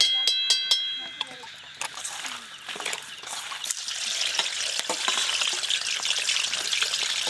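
Chicken pieces frying in hot mustard oil give a steady, loud sizzle and crackle that fills the whole stretch, with sharp pops and spatters near the start and a rooster-like cluck briefly mixed in.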